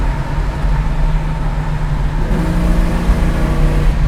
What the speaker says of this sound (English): I love hearing that 4-barrel open up